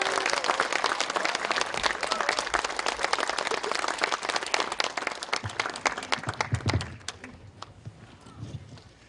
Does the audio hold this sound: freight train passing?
no